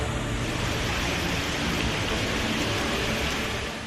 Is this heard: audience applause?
no